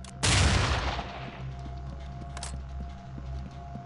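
An explosive breaching charge detonates on a door in the SWAT 4 co-op mission at the Fairfax Residence, a single sharp loud blast that decays over about a second, followed by a quieter thud and low background hum.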